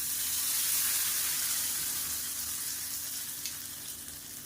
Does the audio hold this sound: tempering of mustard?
yes